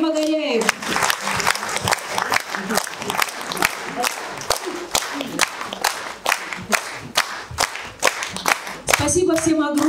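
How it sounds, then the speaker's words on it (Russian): Audience at a festive Tsagaan Sar holiday concert applauding a state folk orchestra, a dense, rhythmic crowd clapping that runs steadily for several seconds, with a voice speaking over it at the start and end. "Аплодисменты нашему оркестру"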